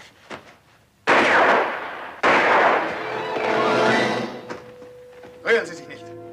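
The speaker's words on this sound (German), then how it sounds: "Hier sind zwei Schüsse reingefeuert worden." Two loud rifle shots ring out about a second apart in a colorized western film, each a sharp blast with a long echoing tail, followed by fainter tones and sounds.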